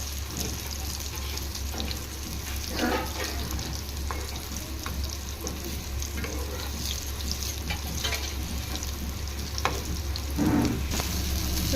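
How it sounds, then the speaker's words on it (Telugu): Bitter gourd slices fry in hot oil with a steady, close sizzle throughout, broken by occasional clinks and scrapes of stirring in the pan. "మిగిలిన కాకరకాయలు కూడా ఆ విధంగానే ఫ్రై చేసుకోవాలండి."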